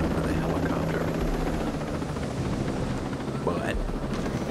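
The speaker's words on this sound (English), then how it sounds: "I know I'm not supposed to be talking over the helicopter" Helicopter rotor in the video game Ghost Recon Breakpoint, a loud steady thudding drone filling the clip from start to finish, with a person talking over it throughout.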